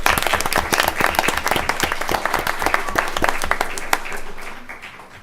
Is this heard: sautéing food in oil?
no